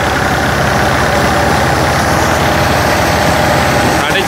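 A Ghazi 65 hp tractor with a freshly rebuilt engine drives a 4.5 ft 2013 thresher while threshing toria, giving a loud, steady, unbroken diesel drone and mechanical rumble throughout.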